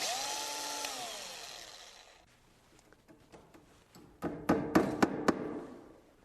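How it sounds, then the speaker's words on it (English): A drill bores nail holes in wooden stair nosing during stair building. A short whining spin winds down over about two seconds, followed by a quieter pause and then a series of sharp taps and knocks. "Drill a couple holes where the nails go."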